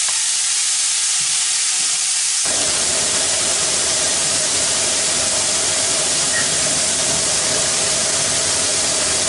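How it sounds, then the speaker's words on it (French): Onions, red and white, fry in a pan with a steady hissing sizzle. It sets in loudly after a quieter start and keeps an even, dense crackle near the mic. "Pendant que ça rissole tranquillement"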